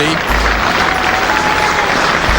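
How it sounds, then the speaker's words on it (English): Spectators at a 1990 Test cricket match in New Zealand applaud a 16-year-old Sachin Tendulkar reaching his half-century. The steady, dense crowd clapping comes through a loud, hissy broadcast, with a voice likely speaking over it. "Applause ringing out for Sachin Tendulkar, his 3rd half-century in Test cricket"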